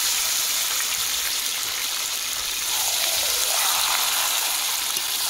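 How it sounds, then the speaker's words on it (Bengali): Marinated country chicken pours into deep-fried onions in a pan, giving a loud, steady hiss and sizzle that holds through the whole stretch, close up, with nobody speaking. "এই দেখুন মাংসটা ঢেলে দেব, ম্যারিনেট করা মাংসটা।"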